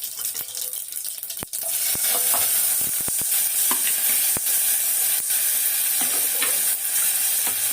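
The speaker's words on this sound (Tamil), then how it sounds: "இப்போ இதுக்கு வந்து ஒரு 3 வரமிளகாய், கருவேப்பிலை, பூண்டு, இவ்வளோதான் தாளிப்புக்கு" Dried red chillies, curry leaves and garlic crackle and sizzle as they temper in hot oil, a loud, steady fry with sharp pops and clinks of a spoon against the pan.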